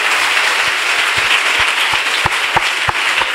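A large congregation at a CMCI church convention in Bouna claps loudly and steadily, a dense wash of applause with sharper individual claps standing out near the end.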